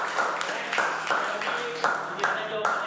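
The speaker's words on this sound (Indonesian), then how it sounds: "tepuk tangan lagi untuk semua" A classroom of students claps in a loose, uneven rhythm, a handful of distinct sharp claps standing out over a murmur of voices in the room.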